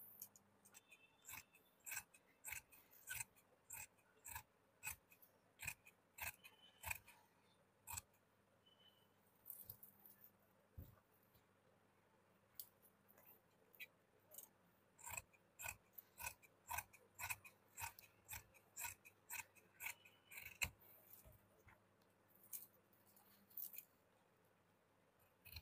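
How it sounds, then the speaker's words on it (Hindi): Scissors snip through saree fabric to cut kurti panels, giving a long run of sharp, close clicks in quick bursts separated by short pauses. "इसी प्रकार से हम लोग और टुकड़े में भी इसी तरह से कली को काट के निकाल"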